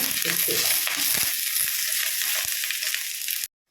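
Prawns roasting with curry leaves in a pan for a Kerala-style prawn roast give a loud, steady sizzle and crackle with light stirring scrapes, cutting off abruptly near the end, with no talk.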